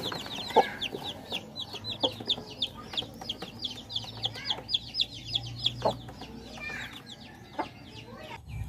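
Chickens cluck steadily and close on a farm, short repeated calls with fainter high chirps of young chicks running throughout.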